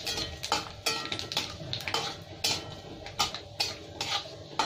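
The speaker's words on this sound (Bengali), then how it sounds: "সবকটা একসাথে ভেজে নিলাম" Dry red chillies, bay leaves, nigella seeds and cumin fry together in oil in a pan, stirred with a utensil that clinks and scrapes against the metal in soft, regular strokes over a faint background sizzle.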